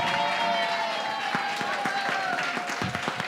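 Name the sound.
audience applause for Democracy Burlesque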